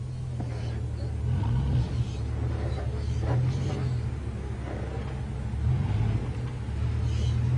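An off-road vehicle crawls slowly over obstacles, its engine a steady low rumble with small rises in pitch as it works over the terrain, close and continuous.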